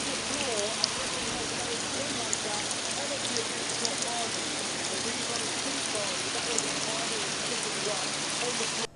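Steady rain falls outdoors, a dense even hiss with scattered drops tapping nearby, continuous and moderately loud throughout, with faint voice-like murmurs underneath.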